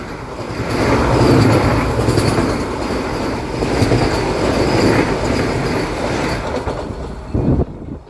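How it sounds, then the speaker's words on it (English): Madgaon–Mumbai Vande Bharat Express rushing past at a crossing near Chiplun, a loud, sustained rumble with clattering wheels and brief squeals that fades slightly at the close. "This is the Madgaon Mumbai Vande Bharat Express."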